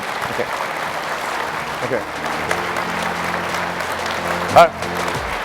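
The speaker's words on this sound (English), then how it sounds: "I'm not one to interrupt applause" Steady conference audience applause at the 2023 ROMA Conference, a dense wash of many hands clapping at moderate level with no break.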